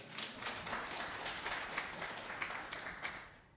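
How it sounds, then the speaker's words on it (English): Audience applause at a Juneteenth keynote event following an introduction, a steady wash of many hands clapping at moderate distance, fairly faint and even for a few seconds with no talking over it. "a round of applause for that wonderful introduction, please"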